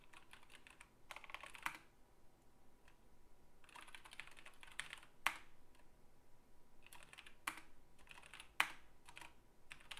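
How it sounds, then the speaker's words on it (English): Irregular bursts of keystrokes on a computer keyboard during a programming session, quiet and fairly close, with sharper isolated clicks between clusters of rapid taps and no voices. "I'm only typing W once, but it puts it there twice."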